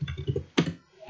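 Keystrokes on a computer keyboard as a command is typed in a command-prompt database tutorial, a few close quick clicks, a louder burst midway, then a brief pause before more typing.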